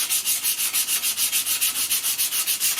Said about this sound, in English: John spends ages sanding the filler back nice and smooth.